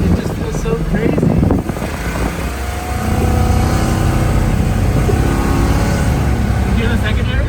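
A 1956 Chevy engine revs hard, a loud deep roar that climbs and holds as the carburetor secondaries open, with people talking over it.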